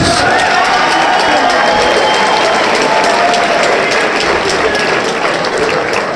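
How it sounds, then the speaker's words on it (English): An audience at a boxing event in Tampa, Florida applauds both fighters after a three-round bout, with dense, loud, continuous clapping from a large crowd filling the whole stretch. "a nice round of applause for both fighters, please"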